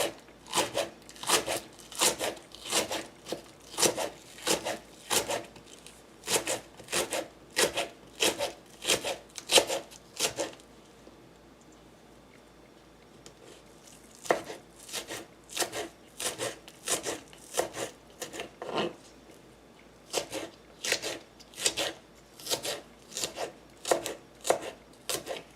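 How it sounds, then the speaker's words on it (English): Green onions being sliced thinly with a knife on a cutting board, a rapid, regular run of crisp chopping taps that stops briefly for a quiet pause and then resumes at the same brisk rhythm, close and clear. "I have some green onions. I just want to slice them up. I like them nice and thin."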